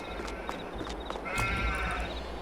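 Sheep bleat inside a pen in the Farming Simulator 22 video game, one drawn-out bleat standing out midway over a steady low rumble of game ambience.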